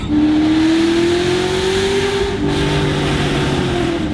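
A loud LS3 V8 engine in a Chevrolet SS rumbling close by, its pitch rising steadily as it accelerates, with a throaty, continuous roar.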